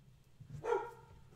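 A single dog bark rings out sharply over faint low background noise, a short mid-range yelp of moderate loudness.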